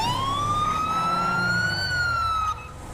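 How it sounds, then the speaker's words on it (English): A police car siren in the video game GTA wails in a single long, loud rising and falling tone over low engine rumble, then cuts off abruptly near the end. "we will shut off of the siren so that they don't alert them that we are on the way"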